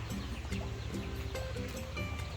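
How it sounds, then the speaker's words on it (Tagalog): Several chickens cluck in short, repeated calls close by, a busy chorus of fowl over a steady low hum. "lumilipad pa din yung mga manok"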